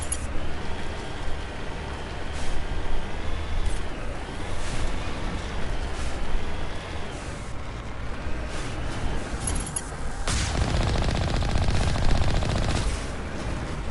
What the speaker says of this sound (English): These missiles, man.